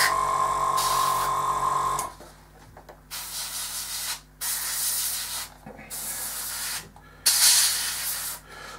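An airbrush sprays weathering paint onto a MiG-23 scale model, giving soft, close hissing bursts of varying length separated by short pauses, with no talking.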